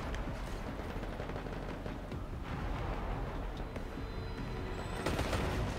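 Gunfire rattles in the video game Destiny 2 over a dense, busy mix of combat noise, with rapid shots and small bursts that stay fairly quiet and continuous and grow a little sharper near the end.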